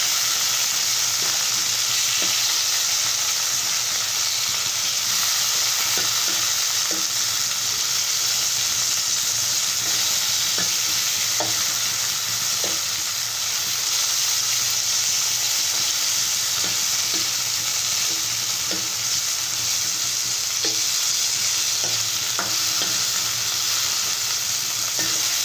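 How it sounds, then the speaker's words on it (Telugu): Tomatoes fry in a little oil in a kadai, giving a steady, close hiss and sizzle throughout, with occasional soft clinks of stirring and no talking. "టమోటాలు వేసి కొద్దిగా ఆయిల్ వేసి ఈ విధంగా వేయించుకుంటున్నానండి."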